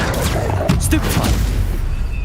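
A Stupefy spell is cast in the PC game Hogwarts Legacy, a burst of booming, crackling impacts that lands sharply partway through and trails off over a low rumble.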